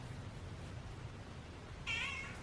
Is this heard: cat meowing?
yes